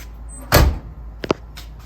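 A Chevrolet El Camino car door swings shut with one loud, solid thump, followed a moment later by two quick lighter knocks, close to the microphone in an otherwise quiet space.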